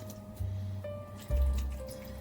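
A quarter cup of water poured into the bottom of a roasting pan holding a ham, two short splashing pours, close and moderately quiet, with no talking.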